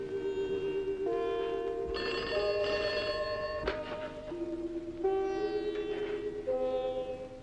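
A telephone rings continuously with a melodic electronic tone that steps between pitches, clear and fairly close, with no talking.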